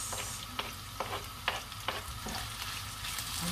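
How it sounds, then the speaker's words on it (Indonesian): Garlic and shallots sizzle steadily in a hot frying pan while a utensil stirs them, producing several distinct clacks and scrapes over the continuous frying hiss, close up with no talk. "Aduk-aduk sebentar,"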